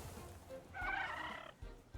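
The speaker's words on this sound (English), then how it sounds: "That's the sound of a rhino spitting sand." A rhino-like creature in the monster-taming game Temtem spits sand in a battle effect: a brief warbling, gobbling cry that swells for under a second over faint game background, then ends with soft thumps.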